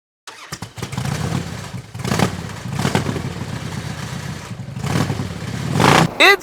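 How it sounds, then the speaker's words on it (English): A 2018 Ultra Limited motorcycle is ridden on Michigan roads in 50-degree winter weather with road salt down, its engine a loud, close, continuous drone that swells with repeated throttle rises and falls. "I am out riding Big Mama, my 2018 Ultra Limited in Michigan in the winter"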